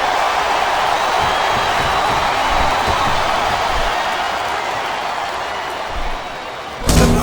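Loud, steady crowd noise at a wrestling match in WWE SmackDown vs Raw 2007, a dense roar of chanting voices filling the arena, ending with a sharp burst near the end.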